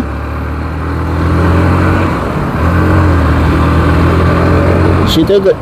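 Steady mid-pitched engine hum of a Bajaj Pulsar NS 160 motorcycle riding along Hatirjheel Circular Road in Dhaka, running near and constant with a brief change near the end, while a rider talks over it.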